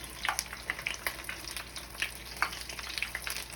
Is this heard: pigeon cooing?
no